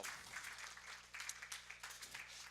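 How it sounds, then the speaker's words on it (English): A short burst of scattered hand clapping, moderately loud and uneven, like a small crowd applauding at a community television celebration, lasting a couple of seconds. "you can give a round of applause"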